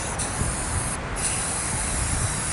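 Spray paint hisses from an aerosol can onto water for hydro dipping, a loud, continuous, close spray with a brief dip in intensity partway through.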